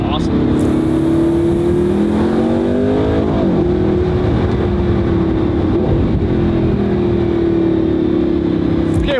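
An Audi's engine revs and drops through repeated downshifts, loud and close, with pitch swells and blips over steady road roar.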